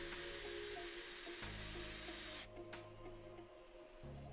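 Ferrex 20v cordless impact drill driving a 60mm decking screw into wood, a close high-pitched motor whine with rapid rattling impact bursts that stop and restart in short runs.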